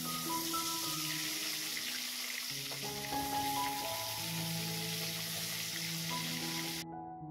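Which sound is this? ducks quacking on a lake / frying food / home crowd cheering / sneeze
frying food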